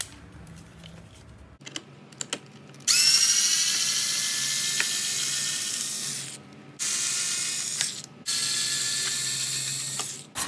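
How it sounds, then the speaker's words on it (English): A 2mm socket wrench ratchets screws out of the battery tray cover on a Traxxas UDR RC truck. Crisp, close clicking comes in several bursts separated by short pauses. "And then use a 2mm socket wrench."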